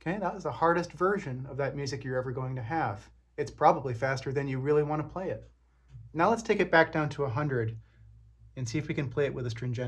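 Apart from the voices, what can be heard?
No distinct noise like a dog, phone or traffic.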